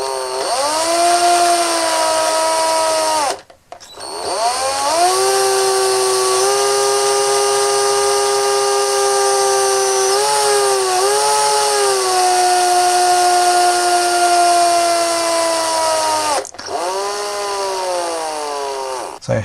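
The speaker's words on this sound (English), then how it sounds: "So I'm just going to very carefully use my drill to drill this hole." A power drill bores a hole in a plastic part of a vintage Denys Fisher Cyborg Cybo-interceptor toy, a loud steady whine rising as the bit spins up, with two brief pauses before it restarts close by.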